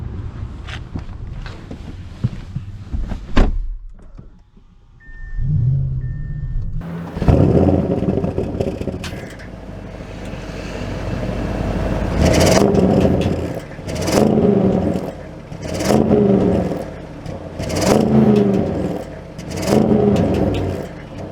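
A 2022 Audi RS7 sedan with sport exhaust starts and drives off, a deep engine roar swelling in repeated revving surges after a quiet start with a faint chime, loud and close.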